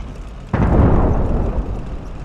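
A Sherman Firefly tank gun shell strikes an enemy tank in a video game: one sudden heavy boom with a rumbling decay that fades over about two seconds.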